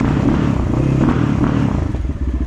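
A new 2024 KOVI MAX 300 motorcycle engine catches and runs close by, a loud, low, rough rumble with clattering mechanical texture that becomes choppier and pulsing toward the end.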